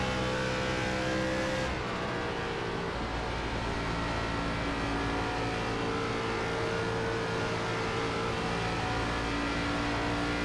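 ARCA Menards Series race car on partial throttle at Kentucky in iRacing, a steady loud engine drone with sustained harmonic tones, holding fairly even throughout with no talk.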